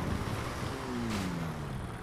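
A race car driven in the GTA 5 video game gives a steady engine drone whose pitch glides slowly downward, with wind-like noise underneath and no talking.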